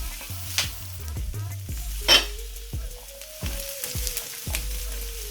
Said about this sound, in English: I'm just going to drop my onions in just to fry